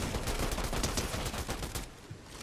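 Rapid SMG gunfire in the video game Fortnite crackles in a dense, continuous burst of quick shots, loud and close, then thins out near the end.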